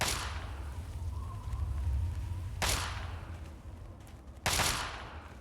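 Gunshots ring out at a shooting range in Fallout 3, a few distinct sharp cracks spaced several seconds apart over a low ambient hum, with no talking.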